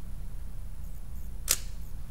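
A single sharp shutter release of an old manual film camera, one crisp click close to the microphone over a low steady background hum.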